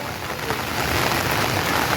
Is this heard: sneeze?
no